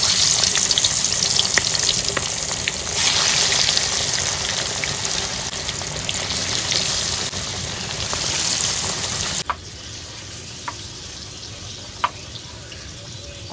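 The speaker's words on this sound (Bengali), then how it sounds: "ভেজে নিয়ে এবার মাছগুলো" Large pieces of bhetki fish fry in a hot pan with a loud, steady sizzle that fills most of the clip, then drops abruptly to a quieter crackle with a few sharp clinks near the end.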